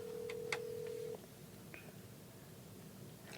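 A telephone call on speakerphone being dialed: a steady tone for about a second, with brief dialing beeps above it, then quiet line noise. The sound is faint and thin.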